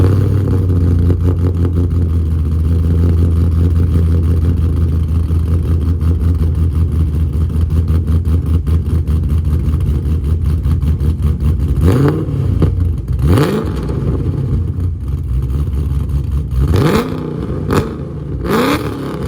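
A Pontiac G8 engine rumbles loud and close with a deep, steady idle, then gets blipped in a few sharp revs that rise and fall near the end.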